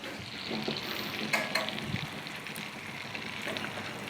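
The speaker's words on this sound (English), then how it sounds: "Okay, so we're just gonna baste this" Steak sizzling in butter on a Blackstone griddle while being basted with a spoon, a steady close frying hiss with faint scraping and occasional spoon clinks.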